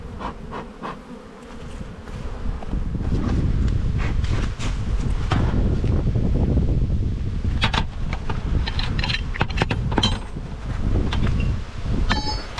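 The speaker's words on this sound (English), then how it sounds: "Hopefully that wind's not too bad for you guys" Wind gusts buffet the microphone outdoors at an open silver beehive in spring, a broad steady rush mixed with a close, continuous buzzing of bees and brief clicks.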